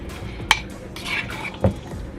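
Gooey chili stirred in a pot, with a sharp spoon clink against the side and a second knock later, thick squishy scraping in between.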